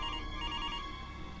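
An old telephone bell rings in a horror story sound effect, a sustained, fairly loud electronic trill that runs unbroken and alone with no voices.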